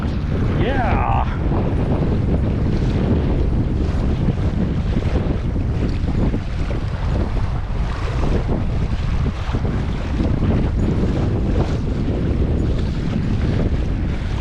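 Strong wind buffets the microphone without a break during a kayak ride on Table Rock Lake at a bass fishing tournament, a loud steady roar mixed with water and wave noise.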